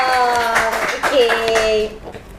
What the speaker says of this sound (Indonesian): Tepuk tangan dulu untuk Kak Jidate dong